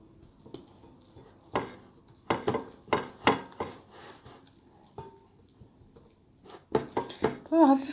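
Flour being whisked into a soft dough in a bowl for poğaça, with quick bursts of scraping and tapping strokes that come in clusters, loudest toward the end, and no voice over them.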